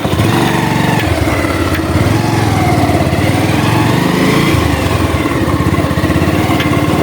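A motorbike engine runs steadily and loud for the whole stretch, its throb rising and falling a little as the ride gets under way on a trip to a family wedding.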